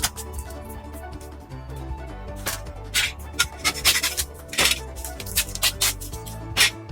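Rhythmic rasping strokes of sanding a guitar fretboard with a radius sanding block, bursts of scratchy friction repeating unevenly up close against a quiet background hum.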